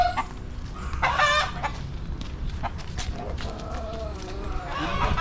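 Chickens cluck close by while a rooster crows, with brief bursts of calling over steady farmyard noise and faint voices.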